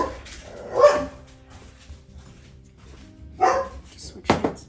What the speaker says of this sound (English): the dogs barked, so drink up